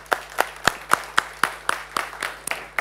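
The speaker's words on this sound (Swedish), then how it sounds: "En applåd för er, tycker jag," A few people clap slowly and sparsely at a gathering in Höganäs about farm sales of wine. About a dozen separate claps land in a loose, steady rhythm, close and moderately quiet.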